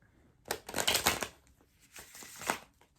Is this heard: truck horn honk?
no